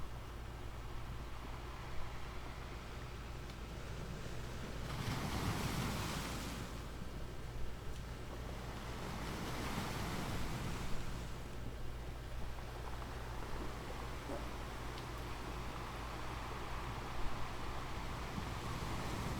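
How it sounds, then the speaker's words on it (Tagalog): Steady surf washes against the shore at Manila Baywalk Dolomite Beach, with a couple of broader swells rising and falling, mixed with wind rumble at the microphone. "Gandang pagmasdan yung alon."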